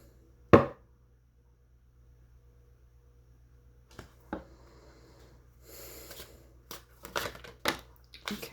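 Tarot cards being shuffled by hand: a sharp riffle snap near the start, a few isolated taps, then a run of papery shuffling and quick card flicks toward the end, close and fairly quiet.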